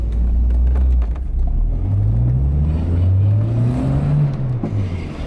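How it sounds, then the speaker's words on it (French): Volvo 480 turbo engine revved with a firm press of the throttle, loud and close; a rising, falling rumbling whir as the revs climb and drop, with the turbo building pressure. "Un petit coup de gaz appuyé permet de confirmer que le turbo prend sa pression"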